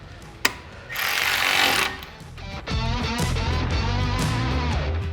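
A tool tightens 5/32 head screws on Prinsu roof rack feet for a Jeep Compass, with a sharp click, a burst of whirring, then a longer whining mechanical run, close and fairly loud.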